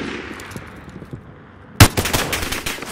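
Gunfire in Warzone, opening on a faint hiss with scattered distant pops before a sudden loud crack and a rapid burst of automatic shots near the end.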